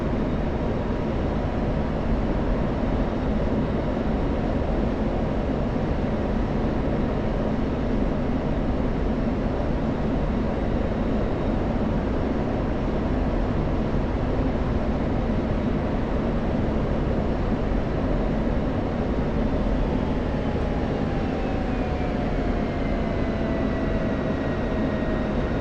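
Constant loud broadband roar of an F-16 jet in the DCS flight game during air-to-air refueling, a steady engine and airflow rush with faint tonal whines drifting through it.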